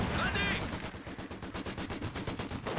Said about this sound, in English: Look at that Vickers picking off units on the retreat